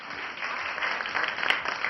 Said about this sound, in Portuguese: Quero aplausos.